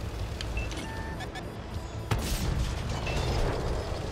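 A tank taking a shell hit in the World of Tanks video game on Xbox, a sudden booming impact after a mechanical rumble, followed by continued low engine noise and someone talking throughout.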